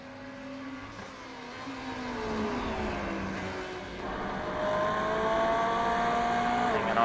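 In iRacing, the Ferrari GT3 race car's engine howls on track at Watkins Glen, its pitch sliding down and then climbing steadily through the gears as it accelerates, with the roar growing louder toward the end and no talk.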